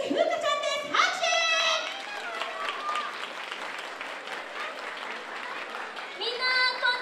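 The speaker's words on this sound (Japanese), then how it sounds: "拍手。" Audience clapping at a Peter Pan Broadway musical stage event in Japan, steady applause running under high-pitched speaking voices, with a voice rising again near the end.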